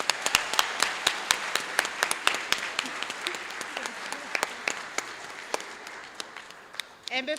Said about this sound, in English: Can we give them another hand of applause?